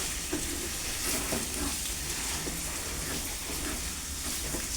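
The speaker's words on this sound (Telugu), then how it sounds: "పసుపు అంతా పట్టే వరకు చికెన్ ముక్కలకి బాగా వేయించుకోవాలి" Chicken pieces frying with turmeric in a pan, a dense, steady sizzle like heavy rain with faint occasional stirring scrapes underneath, no one speaking.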